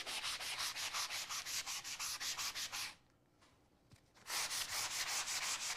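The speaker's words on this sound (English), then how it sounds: "Some people do not like the sound of sanding." Sandpaper rubs back and forth across a craft door hanger in quick rhythmic strokes, a close, scratchy rasp that pauses briefly midway before resuming at the same pace.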